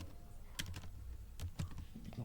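Quiet keystrokes on a computer keyboard come in irregular little bursts, soft and close, with no voice over them.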